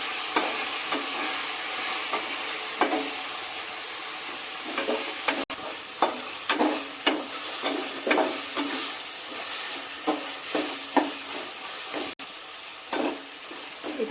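Green chillies fry and get stirred in a pan for a mushroom biryani, a steady sizzle broken by repeated scraping stirs at an uneven rhythm, close and moderately loud with no talking.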